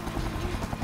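A cartoon helicopter drones in a continuous low rotor rumble, steady and fairly loud with no talk over it.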